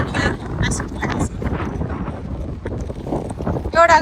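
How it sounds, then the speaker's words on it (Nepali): Strong wind gusts across the microphone in Memorial Park, Newcastle, a rough buffeting rumble throughout, with people talking over it. "यस्तो हावा चल्दैछ"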